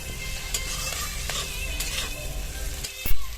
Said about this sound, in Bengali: এবার এগুলো দেওয়ার পরে আরও বেশ কিছুক্ষণ মিনিট দুই তিন সময় নিয়ে ভেজে নেব মিডিয়াম ফ্লেমে